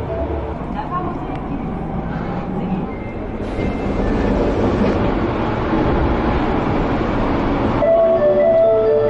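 A train rumbles and clatters steadily nearby in Japan, growing louder midway, with people talking over the noise and a brief high tone near the end.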